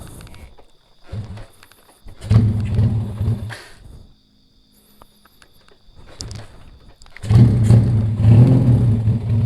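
A Yamaha Vega ZR two-stroke motorcycle's exhaust is revved in two loud, close bursts, each climbing and falling away, separated by near-quiet idle with insects chirping faintly in the background.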